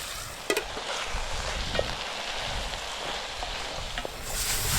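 Smoked lardons frying in a pan on a Trangia spirit stove at a wild camp, a steady close sizzle with faint stirring scrapes and a few light clicks, no talk.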